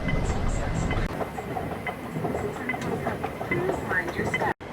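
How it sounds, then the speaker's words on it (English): A passenger train ride in Hong Kong, with a steady loud rumble and rattle of the carriage throughout, faint clicks and squeals over it, and voices murmuring in the background. "we have to hop on another train"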